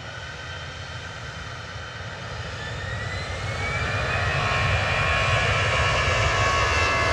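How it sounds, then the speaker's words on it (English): A Jet2 airliner taxiing at Manchester Airport gives off a loud, steady jet engine roar that builds gradually, with a faint rising whine on top. The sound is heard alone, without speech. "Jet 2 to Alicante's taxiing over"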